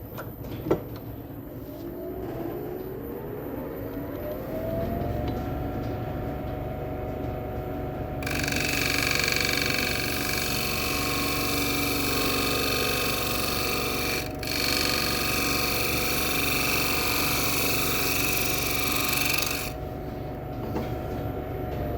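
A wood lathe hums steadily while a gouge takes a light finishing cut on a spalted poplar bowl, the cutting adding a loud, even hiss for most of the stretch before easing off near the end.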